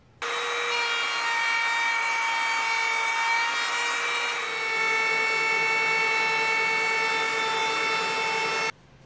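Trim router cutting MDF along a fence while building a workbench top, a steady high-pitched whine with a bright tonal hum, holding level for about eight seconds and then stopping abruptly, close and loud with no talk.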